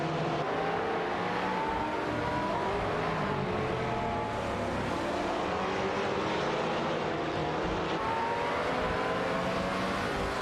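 Lotus Evora GT4 and Aston Martin Vantage GT4 race cars in a sim racing game, a continuous loud engine drone with shifting, layered tones as several cars run together, steady throughout with no pauses.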